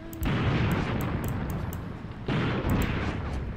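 Gunfire in the WWII tactics game Graviteam Tactics: Mius Front, two heavy booming shots a couple of seconds apart, each with a long rolling rumble that fills the gaps, with no talking.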